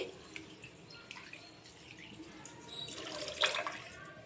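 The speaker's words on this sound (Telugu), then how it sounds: "1 గ్లాస్ రైస్కి 2 గ్లాసెస్ ఆఫ్ వాటర్ వేయాలి" Water trickles and splashes into a pot of tomato rice, a soft pouring sound that swells briefly near the end amid quiet kitchen background noise.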